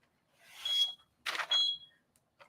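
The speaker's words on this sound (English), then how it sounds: "We're making all sorts of beeping." An electronic device gives off short beeps during a live tumbler-crafting session: two close, fairly loud bursts with a thin tone inside each, separated by a brief gap, and a faint blip at the end.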